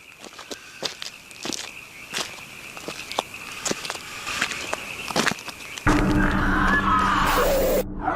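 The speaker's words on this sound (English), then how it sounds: "The sounds of footsteps can be heard in the darkness near the trail cam" Footsteps in darkness near a trail camera outdoors, a slow series of distinct crunching steps over a faint insect hum, followed by a sudden loud harsh noise burst at the end.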